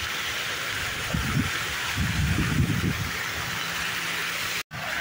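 Fountain water at a large park near the Taj Mahal splashes continuously as an even, rushing wash, moderately close, with a brief dropout near the end.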